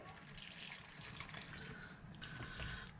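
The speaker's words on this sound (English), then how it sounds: "I'm just going to add a touch more water to that." Water poured into a pot of simmering vegetable curry, a steady splashing, trickling rush that runs continuously at moderate level without pause, close to the microphone.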